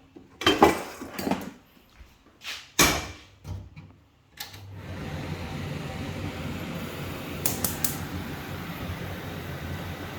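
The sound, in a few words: frying pan being taken out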